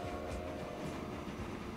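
Iron freight train in the Transport Fever game gives a steady rumbling rail drone with faint clatter, continuous and moderately quiet, with no speech.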